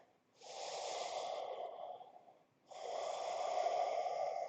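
Two long, audible breaths, one in and one out, from a person holding a yoga pose, each a steady airy rush lasting about two seconds, close and soft.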